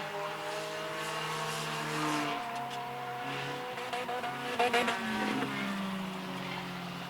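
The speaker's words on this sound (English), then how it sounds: "46 cars started this race. 9 remain on the track." Race cars in the 2024 Fall Fury endurance race drone around the track, with layered engine tones rising and falling as cars pass at a moderate distance.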